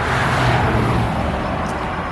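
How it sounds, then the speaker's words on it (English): A car drives past outdoors early in the morning, a steady broadband road rumble that stays loud and even for about two seconds with no voices over it. "man, cars we even drive by this early in the morning."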